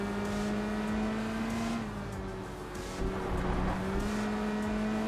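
A race car engine in the driving game Enthusia Professional Racing holds a steady, loud drone. It rises and dips as the driver shifts and pushes hard through corners, with a faint scrape of tires and no voices.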